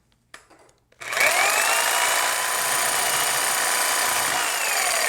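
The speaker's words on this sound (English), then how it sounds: "Now watch the Grout Grabber work as we remove our grout." An oscillating power tool fitted with a Grout Grabber blade grinds grout out from between tiles. Brief handling knocks give way to a loud, continuous buzzing rasp that holds steady.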